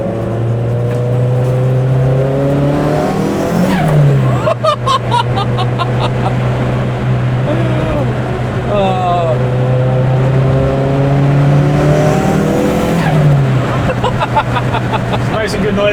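A tuned, turbocharged Toyota Glanza engine revs up and down repeatedly on a track, holding a steady drone between sharp climbs, close and loud.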